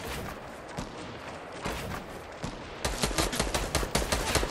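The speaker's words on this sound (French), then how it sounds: "Ça tire au snipe, ça tire de partout." Loud, rapid gunfire rattles through a Fortnite match in close, overlapping bursts, with the shots growing denser and more clipped toward the end.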